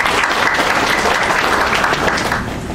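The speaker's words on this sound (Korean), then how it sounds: "격려와 감사의 박수를 드리겠습니다" Steady applause from a church congregation during a worship service, dense and even clapping that fills the whole stretch and tapers slightly at the end.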